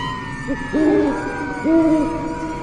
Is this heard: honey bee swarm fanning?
no